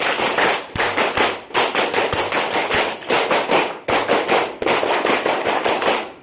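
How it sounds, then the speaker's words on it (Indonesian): A group at a weekend scout camp performs the Pramuka clap, sharp rhythmic group handclaps in repeated patterned bursts with short pauses between phrases, loud and close. "Mulai 2 kali tepuk pramuka"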